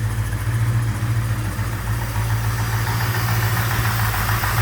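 A stock orange Hemi Mopar engine with a mild camshaft idles up close, a steady low rumble with a slightly lumpy, even rhythm holding constant throughout, no voices over it.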